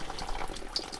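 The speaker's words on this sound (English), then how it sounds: "All right, time to have a shower." Shower water runs in a camper van with a soft, close hiss and a faint splashing spatter. The burst is short and quiet, and no one speaks.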